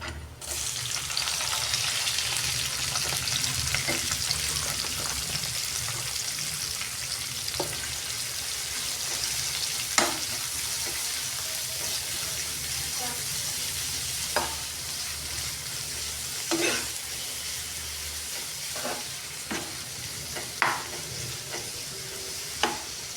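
Chopped onions fry in a pan with a constant sizzle, broken by occasional sharp clicks and scrapes as a utensil stirs them, with no talking.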